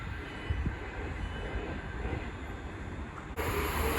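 Passenger train 39135 passes through Stafford station on the West Coast Main Line, running from London Euston to Manchester Piccadilly, heard as a steady low rumble of wheels and rolling stock that swells slightly near the end.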